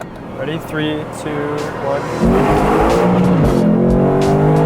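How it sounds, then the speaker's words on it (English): Lexus RC F Track Edition in manual mode revving hard and accelerating, its exhaust rising to a loud, rasping roar under a short countdown from the driver. "the crack of that exhaust when it hits redline is just amazing"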